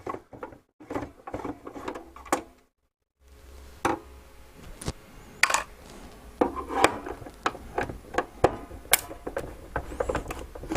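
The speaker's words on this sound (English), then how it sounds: "it doesn't sound like this has ever been undone before because they've got that sort of crack when you turn the screws" Screws on a Nintendo NES console cracking loose as a screwdriver turns them, giving sharp irregular snaps and creaks amid close handling clatter, with a brief silent pause early on.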